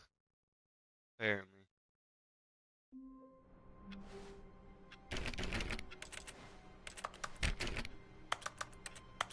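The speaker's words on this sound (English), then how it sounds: "Why does it sound like I'm typing still?" Keyboard typing in the video game The Stanley Parable clatters as dense bursts of quick key clicks over a low hum, growing busier and louder, after a brief tonal sound and a pause of silence.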